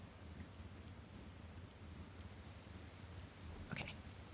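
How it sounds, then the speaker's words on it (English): Rain falls in a desert zone of the video game Final Fantasy XIV, a steady soft hiss of rainfall with a brief sharp crackle near the end. "It's raining in the desert."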